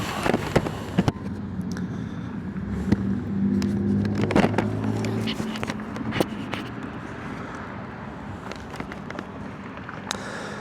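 A motorcycle rides on the road from Brookings to White, South Dakota, giving a steady engine drone under heavy wind rush, with a brief rise in engine tone midway.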